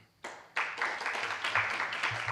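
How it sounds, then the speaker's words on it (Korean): At a 2021 Korean academic conference on Jeungsando culture and thought, clapping breaks out in two quick steps and swells into steady, close applause welcoming a presenter. "박수로 발표를 맞이하겠습니다."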